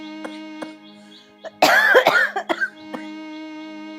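An elderly woman's harsh, raspy coughing fit breaks out in a few rough bursts, close by, over a quiet tonal hum.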